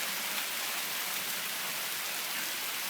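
Hail pours down in April as a dense, steady hiss of countless small impacts, loud and even throughout with no pauses or voices.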